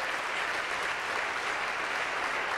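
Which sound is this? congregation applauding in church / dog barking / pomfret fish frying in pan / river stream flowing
congregation applauding in church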